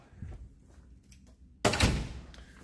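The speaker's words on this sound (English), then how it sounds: "Door's shut." A lab door at a fire protection engineering school swings shut with a sudden loud thunk partway through, after quieter shuffling and handling sounds.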